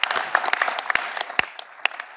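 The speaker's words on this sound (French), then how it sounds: "Moi, je trouve qu'on doit applaudir Michel Cocher." An audience applauds in a short burst, with distinct sharp individual claps standing out from a dense, lively patter that tapers off slightly toward the end.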